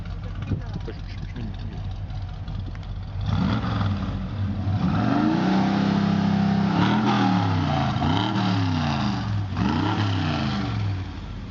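A deep 350 V8 engine in a 1982 Chevrolet C10 pickup idles, then is revved several times in quick succession, each rev rising and falling, while a person talks faintly underneath.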